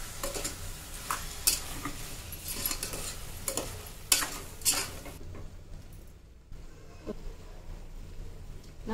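Marinated mutton tossed into a pan with ginger garlic paste, sizzling and frying while a spoon scrapes and clinks against the pot in bursts, then the sound drops quieter near the end.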